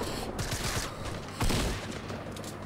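Gunfire in Fortnite bursts in rapid, overlapping volleys at moderate distance, with a louder cluster of shots midway and a steady game ambience underneath throughout.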